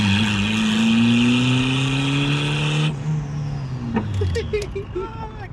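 A turbocharged Honda Accord CG6 on a street tune roars loudly as it revs and pulls hard through the gears, the engine note climbing with each shift, then a sharp drop-off and choppier revving near the end while people talk over it.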